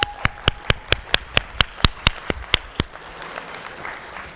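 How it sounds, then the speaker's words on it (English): A single person or small group claps in a steady, evenly spaced rhythm, about a dozen sharp claps over three seconds, before the claps give way to a faint murmuring room at a morning conference general session. "Can we just start clapping? Just clap."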